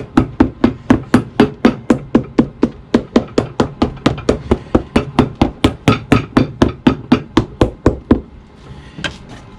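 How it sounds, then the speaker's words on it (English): Rapid, steady hammer blows, about thirty close sharp strikes in an even rhythm, fix a thin protector sole onto a Lucchese cowboy boot, then the hammering stops. No one speaks. "let me finish hammering at least before I talk."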